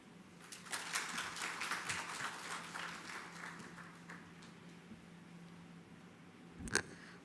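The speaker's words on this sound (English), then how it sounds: "can we have a louder round of applause, Shri Rohan Chand Thakur, one more time?" Faint applause at a ceremony: a scattered round of clapping swells and slowly fades, ending with one sharp louder clap near the close.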